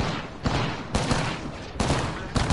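Bursts of rapid automatic gunfire from the video game Apex Legends, several loud dense volleys separated by brief pauses, close and dominant throughout.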